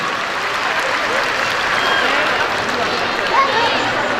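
Steady, dense applause from a ceremony audience at the Silver Jubilee Convention Center in Islamabad, sustained and even for several seconds with a faint murmur of voices mixed in.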